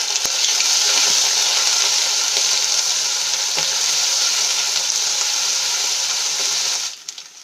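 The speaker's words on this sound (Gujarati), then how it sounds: "ડુંગળીને આપણે સરસ રીતે મિક્સ કરી લઈશું અને લાલ કલરની થાય ત્યાં સુધી આપણે એને સાંતળી લેવાની છે" Steady, loud sizzling of chopped onion and paste frying in hot oil, with occasional faint stirring clicks, cutting off abruptly near the end.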